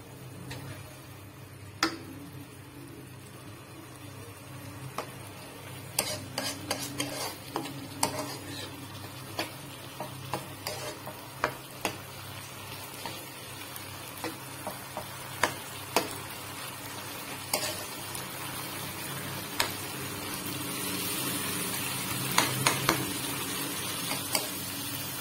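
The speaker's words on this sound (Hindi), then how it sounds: "इसे अब हम मिक्स कर लेंगे और इसे हम 10 मिनट के लिए मसाले के साथ कुक होने देंगे" A spoon stirs mash daal with spices in a cooking pot, giving irregular light clinks and scrapes over a low steady background, close and fairly quiet across the whole stretch.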